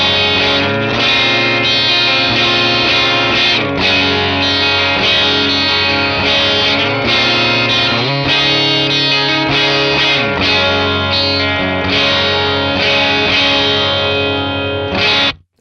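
A Fender Telecaster on its bridge pickup at full output plays through an Axe-FX 3 with a clean tone, loud close chords ringing with chorus and echo shimmer, phrases rolling on for about fifteen seconds before a sudden stop.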